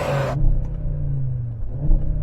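An Audi RS3 engine revs against its rev limiter, a loud, close droning rumble that stutters and pulses as the limiter cuts in, with a brief hiss at the start.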